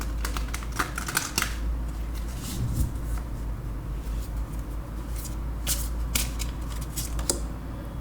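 Tarot cards being shuffled by hand in soft, crisp riffling bursts, with a cluster early on and more near the end, quiet and close with no talking.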